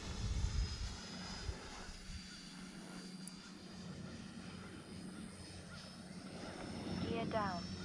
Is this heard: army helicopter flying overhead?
yes